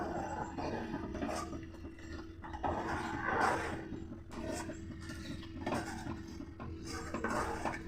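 Milk stirred steadily in a metal pot while thickening for matka ice cream, a spoon scraping and clinking against the pan in a continuous uneven rhythm, close and moderately loud, with no talk.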